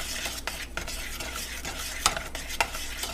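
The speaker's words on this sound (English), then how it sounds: "But for now, just try and stir those things in. Make it as smooth as possible." A no-bake cookie mixture is stirred in a pot, a spoon scraping and swishing steadily against the metal with a couple of sharper clinks, close and alone with no talking.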